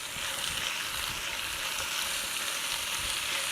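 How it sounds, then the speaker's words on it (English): Beef browning in a pot with onions, garlic and celery, a steady, dense sizzle heard close up and uninterrupted, with no voices. "while it's browning, I'm going to add my onions and garlic and celery"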